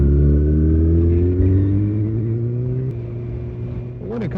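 A 2015 Kawasaki Ninja ZX-6R 636 motorcycle engine drones loudly and steadily nearby as it rides, its pitch easing down midway and then rising again in a brief rev near the end.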